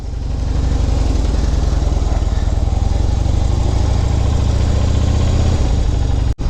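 A Harley-Davidson Fat Bob motorcycle engine idles steadily and loudly up close with a lumpy, throbbing pulse, cutting out abruptly near the end.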